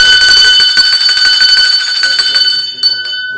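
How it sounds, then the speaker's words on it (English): A bell rings repeatedly and loudly at an event honouring a living legend, bright sustained tones layering for about three seconds before fading with a couple of final strikes. "Ring the bell for Fernando Rosado."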